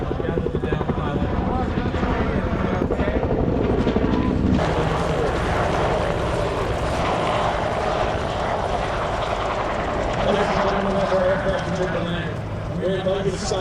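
Single-engine AH-1 Cobra and UH-1 Huey combat helicopters fly overhead, their loud, steady rotor thump and turbine whine continuous throughout, with a voice talking over the noise.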